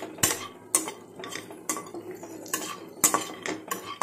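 Vegetables sautéing in oil in a pan for white sauce pasta, with regular clinking spoon strikes against the pan over a low sizzle.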